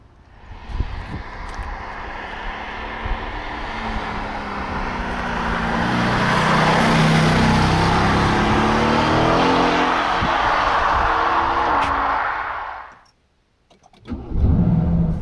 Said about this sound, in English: Even from inside the car, you get an absolutely fantastic noise, and it accompanies you the whole time